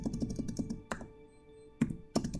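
Fingers tapping keys on an Apple Magic Keyboard, a quick run of close, light clicks, then a pause and two more isolated key presses.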